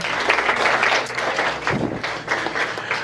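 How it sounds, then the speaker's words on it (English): Wedding guests applauding in a reception room, a steady wash of clapping that stays loud and dense throughout with faint background voices mixed in. "let's have a round of applause"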